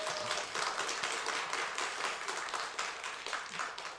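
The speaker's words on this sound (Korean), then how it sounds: "여러분 예쁘죠? 박수 한번 주세요. 박수." Church congregation applauding at an evangelism festival service, a dense steady wash of many hands clapping together, fairly loud and continuous with no break, no voices standing out above it.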